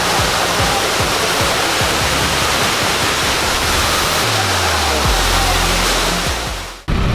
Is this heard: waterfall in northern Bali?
yes